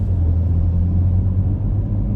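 A 2017 Porsche Macan GTS cruising in comfort mode with its exhaust turned down gives a steady, low cabin rumble and road drone that stays even and constant throughout, with no revving.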